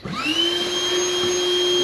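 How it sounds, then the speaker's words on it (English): A vacuum cleaner runs steadily and loudly throughout, clearing debris during a wheel repair job, with a constant motor whine and a high-pitched hum and no pauses. "vacuum it out"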